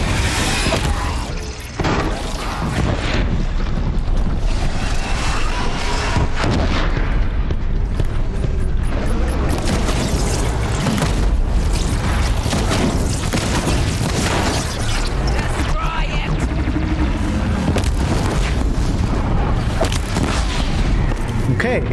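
Repeated heavy booms and blasts pound away in Horizon Zero Dawn as a mounted gun is destroyed, a dense continuous barrage of explosions and gunfire with a voice talking over it.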